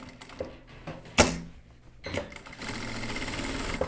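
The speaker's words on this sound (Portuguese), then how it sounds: "Vou costurar isso aqui." A sewing machine stitches a wool coat: brief whirring runs broken by clicks and a sharp clunk, then a steadier, louder stretch of stitching near the end, close to the mic.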